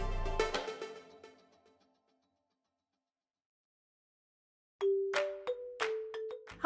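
A bright notification chime sound effect: one decaying ding, then a pause of silence and a quick series of tinkling bell notes near the end.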